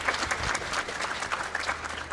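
An audience at a leadership talk claps together in a dense, steady round of applause that fills the whole short stretch with no speech over it.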